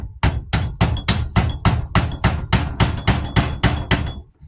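A hammer strikes a screwdriver set against a rear hub bearing on a 2006 Dodge Grand Caravan, with about thirteen loud, close metallic blows in a steady, even rhythm.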